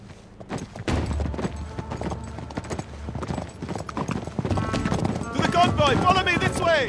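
Horses gallop across canyon terrain in Uncharted 3, their hooves clattering in a fast, continuous rhythm close by, with scattered gunfire, a whinny and raised voices toward the end.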